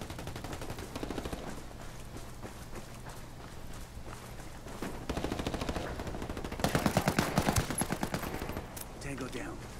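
Rapid bursts of automatic gunfire in the tactical shooter Ghost Recon Wildlands, sustained rattling volleys that build louder toward the end, with a voice speaking briefly over them.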